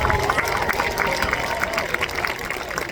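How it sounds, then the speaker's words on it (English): Audience applause for members of a school homecoming court, a dense and steady wash of many hands clapping that fills the space at an even level throughout. "Please give a round of applause for both Emily and Landon."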